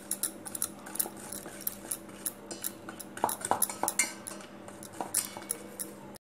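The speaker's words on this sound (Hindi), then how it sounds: "इसको अच्छे से मिला लेते हैं।" A metal spoon clinks and scrapes rapidly against a bowl while stirring eggless cake batter of flour, ghee and sugar, a busy irregular clatter throughout with no voices.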